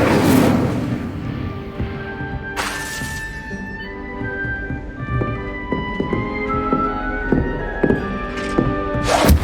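Incendio fire spell cast in the video game Hogwarts Legacy: a loud, dense burst of game effects with repeated heavy thuds and crackling bursts over a continuous roar, running without pause.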